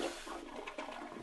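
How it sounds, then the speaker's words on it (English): A toilet flushes in a Simpsons video game set in virtual Springfield, a short, close rushing swirl of water that stays steady and loud throughout and has no talking over it. "Go flush the toilet."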